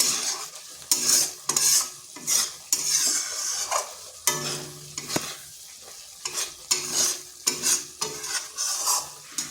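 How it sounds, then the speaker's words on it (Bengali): Vegetarian ridge gourd curry, sprinkled with roasted cumin powder, is stirred in a frying pan: repeated close scraping strokes of a spatula over a steady soft sizzle, in an uneven rhythm. "এরপর 2 মিনিট নেড়ে নিচ্ছি।"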